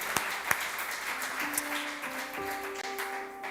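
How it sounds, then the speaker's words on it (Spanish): Church congregation applauding for the Lord during a Spanish-language worship service, a soft steady patter of many hands under sustained keyboard tones that shift pitch, with a couple of sharper claps near the start. "¿Cuánto le dan un aplauso al Señor por eso?"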